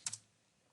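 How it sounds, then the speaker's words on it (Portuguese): A single Enter key press on a computer keyboard, one sharp close click with a quick double tick and nothing after. "Dou um Enter."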